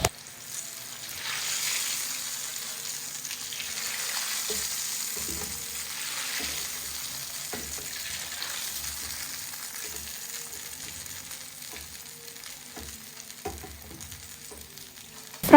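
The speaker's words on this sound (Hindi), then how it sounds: "फ्राइज को ऑयल में डाल दिया और देखे फ्राइज पर गोल्डन कलर आ गया।" Potato fries bubble in hot oil for crispy kurkure chips, a soft, even deep-fry hiss that continues throughout with occasional low clicks, then a sharp knock right at the end.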